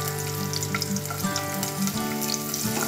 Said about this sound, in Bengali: এখন পেঁয়াজটি হালকা ভেজে নিচ্ছে